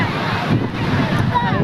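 Sea waves wash onto the shore at Puri beach in a steady, loud roar of surf mixed with gusty wind buffeting the microphone.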